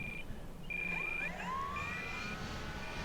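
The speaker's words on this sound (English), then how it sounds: "That's my alarm from Smart." Voltage alarm from the Smart system on an E-flite Night Timber X RC plane, repeated high electronic beeps chirping over steady outdoor background noise, moderately faint.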